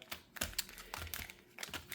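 Foil-wrapped Magic: The Gathering collector booster packs being shuffled by hand, giving several quick crinkly rustles and dry slaps in short irregular bursts, close and fairly quiet.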